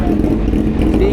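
A Honda CBR1000RR sport motorcycle engine runs with a noisy, rough mechanical rumble, steady and close, briefly heard under nearby chatter.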